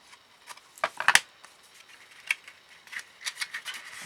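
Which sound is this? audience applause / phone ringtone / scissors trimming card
scissors trimming card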